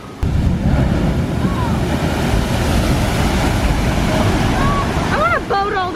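A water ride at Universal Studios gives a loud, continuous rush of splashing water mixed with wind buffeting the microphone, with faint voices rising near the end.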